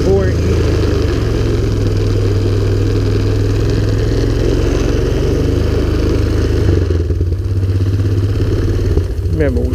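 A Honda Recon 250 ATV idles loudly up close while it is shifted into reverse and backed out, its engine a steady, rough rumble that dips slightly near the end.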